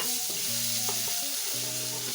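Garlic frying in sunflower oil in a pan, a steady broadband hiss running the whole time under a simple melodic tune.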